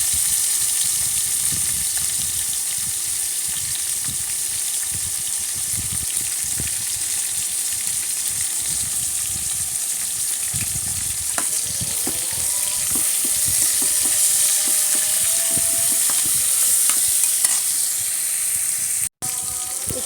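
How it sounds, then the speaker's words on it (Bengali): Beef fat fries in a little oil with a loud, constant sizzle that fills the whole stretch, with faint stirring and a few watery clinks underneath. "চর্বিগুলো একটু ভাজতে হবে।"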